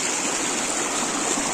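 A river in the highlands of Pimampiro, Imbabura, Ecuador, rushing steadily with a broad, continuous hiss of flowing water, close and fairly loud with no pauses.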